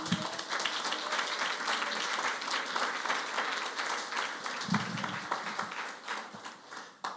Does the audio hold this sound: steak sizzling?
no